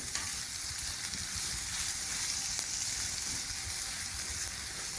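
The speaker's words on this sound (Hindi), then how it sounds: "सबसे पहले हम ये प्याज डालेंगे। इसको थोड़ा भूनेंगे हम।" Sliced onions fry in a little oil in a hot kadhai, giving a steady, continuous sizzle that stays close and even throughout, with no talk over it.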